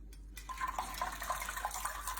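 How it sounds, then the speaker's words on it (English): Citric acid solution poured through the slots of a spoon into a pot while making homemade mozzarella, a steady close splashing trickle of liquid lasting a couple of seconds. "And I'm going to pour it over the slots of the spoon"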